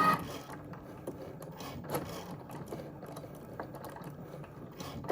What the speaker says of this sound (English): the Cricut will cut out my design